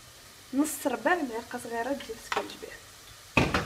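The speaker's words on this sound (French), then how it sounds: "je mélange bien mon contenu pour que mes épices rentrent avec la tomate et les oignons" Tomatoes, onions, paprika and ginger are stirred in a pot for Moroccan-style lentils, a soft scraping and sizzling under a voice talking, then a louder stirring burst near the end.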